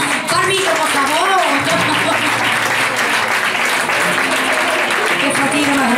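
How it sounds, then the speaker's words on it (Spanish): An audience at a flamenco performance with dance, song and guitar breaks into loud sustained applause and clapping, steady throughout, with voices and some cheering mixed in. "Un aplauso para Mito, por favor"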